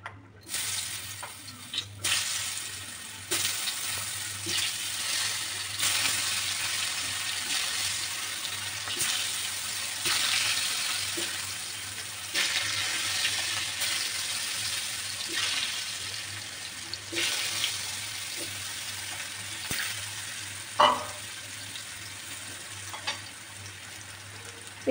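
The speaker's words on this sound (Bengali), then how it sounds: "এবার এই যে এরকম পিস করে কেটে রাখা আলুগুলো একেবারে আলু ভাজার মতো করে ভেজে নেব" Cut potato pieces fry in a pan, making a moderate, continuous sizzling hiss with occasional scraping and stirring knocks. There is no talk.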